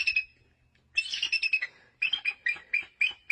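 A pet bird sings after being offered a piece of fish, giving a run of bright, close chirps and squawky notes in short rhythmic bursts with short pauses between them.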